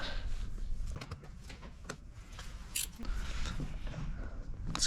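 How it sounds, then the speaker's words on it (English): A utility blade slices paint protection film around the marker light of a Tesla Model 3, set between the bumper and the light; close, crisp cutting and scraping strokes repeat steadily over a faint background hiss. "stick the blade in there and trim in between the bumper and the light"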